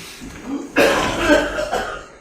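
A man coughs heavily and hoarsely after decades of smoking, one sudden harsh burst that drags into a long rasping cough with a couple of rougher spasms, fairly close and loud.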